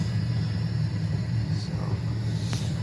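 A fuel pump runs in a Nissan 240SX, heard as a steady low droning hum with a faint whine above it, continuous and close, with a couple of brief clicks near the end.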